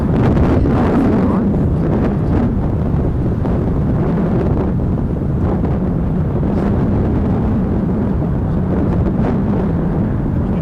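Steady outdoor wind at night near RAF Lakenheath, a continuous low rumbling buffet against the microphone with no pauses, loud and close throughout.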